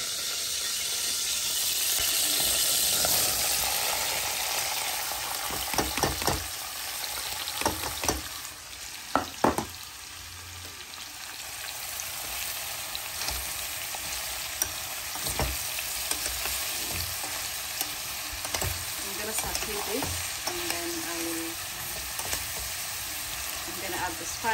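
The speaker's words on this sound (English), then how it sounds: "As you can hear, the oil is boiling." Oil sizzling steadily in a pan as tomatoes and onion fry, a continuous bright crackle throughout with occasional louder pops and stirring clatters, close and alone without talk.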